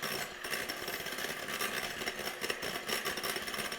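Handheld electric mixer whipping eggnog in a bowl, a steady buzzing whir running continuously and fairly loud throughout, with no talking.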